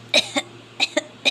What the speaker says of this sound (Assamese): বাইদেউ বহুত দিনৰ পৰা মোৰ কাহটোৱে নেৰা হৈছে